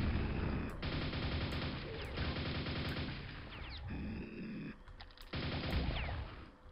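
Rapid bursts of nail gun fire in the Quake video game, rattling in repeated loud volleys separated by brief pauses, with sharp metallic pings between.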